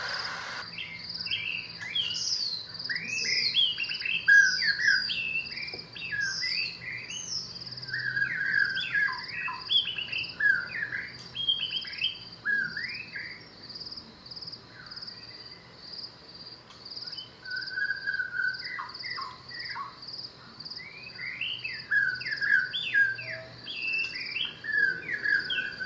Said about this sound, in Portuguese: eu vou colocar para vocês, então, um pouquinho do som da área rural